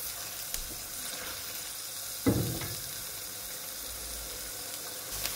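Onions and spice masala fry in a pan for a beef tripe bhuna, giving a soft continuous sizzle with one sharp utensil clank partway through, no talking.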